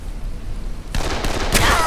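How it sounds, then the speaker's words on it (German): Gunfire from enemies in the video game Dead Island opens up partway through, a sudden loud burst of rapid shots that keeps going over a low ambient rumble. "Oh, die Schüsse klingen ja cool"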